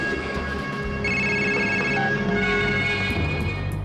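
A telephone rings with a steady electronic tone, loud and close, sustained without a break over a low rumbling background.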